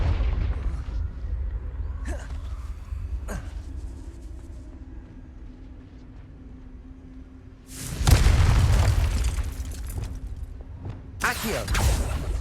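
Confringo blasting-spell explosions in Hogwarts Legacy, PS5 gameplay: two loud booming bursts late on, the first long and rumbling, the second shorter, following light clicks and a low droning hum.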